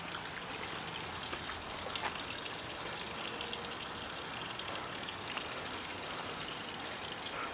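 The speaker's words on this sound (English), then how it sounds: "here they use the fountain to clean the exterior of the rooms" Constant broadband rush of water from a fountain at Taanayel Eco Lodge in Lebanon, a steady gushing splash that continues evenly throughout without voices.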